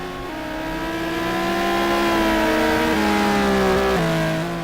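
Race car engines at Spa in a racing simulator game, one loud, close engine revving and shifting through gears with stepped pitch rises and drops, another engine faintly beneath, no commentary.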